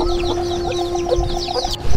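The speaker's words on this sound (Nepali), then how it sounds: "कुखुराहरू हेर्न सक्नुहुन्छ, धेरै छन्" A flock of village chickens and chicks in Gulmi, Nepal clucks in quick, overlapping bursts, close and fairly loud over a steady outdoor background.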